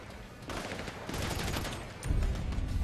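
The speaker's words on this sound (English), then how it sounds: "I still hear shooting happening" Sustained gunfire rattles through a Grand Theft Auto V shootout, a continuous fusillade of overlapping shots at moderate distance, swelling heavier toward the end.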